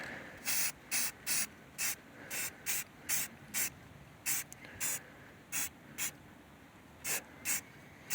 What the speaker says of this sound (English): we're gonna paint this real quick